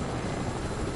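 A helicopter in the video game Fortnite gives a steady, loud rotor and engine roar, a continuous wash of noise with no voices.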